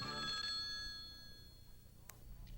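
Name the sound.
telephone ringing in TV commercial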